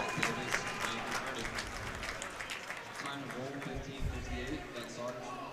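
Cheering from the crowd at a college hockey game between Arkansas and East Texas Baptist, a busy, moderately loud rumble of clapping and shouts that runs under steady play-by-play talk.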